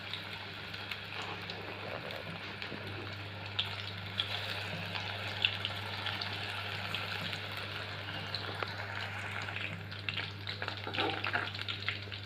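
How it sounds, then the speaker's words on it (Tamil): Pieces of bitter gourd fry in hot oil in a pan, giving a continuous dense crackling sizzle with scattered pops, steady and moderately loud with no talking. "ஒரு பேனில் ஆயில் ஹீட் பண்ணி, ஆயில் நல்லா ஹீட் ஆனவனே பாவக்காய் ஒன்று ஒன்றா தனித்தனியாக எடுத்து போட்டுக்கோங்க."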